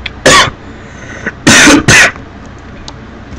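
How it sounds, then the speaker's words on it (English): Three sharp, harsh coughs, close and loud: one alone, then two in quick succession, with quiet between them. "Every time I cough, I throw up in my mouth and it's disgusting."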